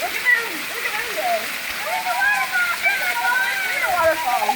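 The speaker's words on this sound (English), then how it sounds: "There's a waterfall." A waterfall roars as steady, loud broadband rushing water, with several people talking and calling out over it throughout.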